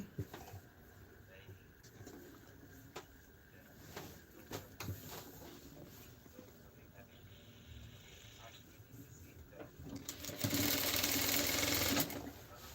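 A sewing machine stitches the lining onto a shirt in short bursts between pauses, ending in a louder, faster continuous run near the end, with someone speaking over it.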